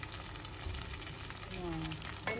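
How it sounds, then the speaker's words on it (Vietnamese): Vietnamese spring rolls (nem rán) fry in oil over low heat, giving a soft, continuous crackling sizzle at low volume with no one speaking. "chiên nhỏ lửa thôi, chiên nhỏ lửa thôi, giòn lên"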